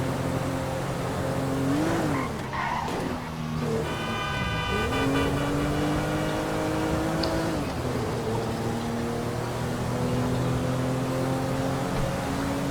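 A car in the video game GTA 5 revs and accelerates through rising and falling gear shifts, with a brief tire squeal and horn-like tones, loud and continuous without talk.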